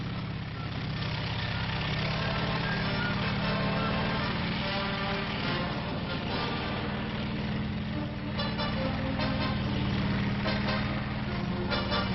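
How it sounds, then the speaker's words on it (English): M48 tanks on the move, rendered as a dense, constant engine and track roar with low rumble, loud and unbroken throughout, with no one speaking. "These are M48 tanks, the fast-moving cavalry of the 20th century."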